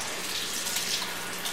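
A tap runs water steadily into a sink for rinsing bleached hair, a continuous close hiss and splash at even loudness throughout.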